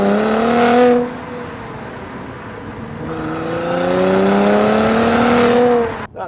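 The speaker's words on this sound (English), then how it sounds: "I do want to try and get the engine noise across to you" Engine of a 2016 Mercedes-AMG C43 4MATIC 3.0 saloon with automatic gearbox while driving, loud rising and falling revs across several gear pulls, a brief lift-off dip between them and a sudden cut at the end.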